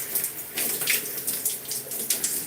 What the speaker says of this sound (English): I am rinsing out this hair in the back.